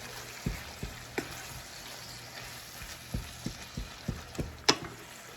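A spoon works through seasoned taco ingredients with a little added sugar, making quiet, rhythmic scraping and tapping strokes about twice a second, ending in one louder knock. No speech.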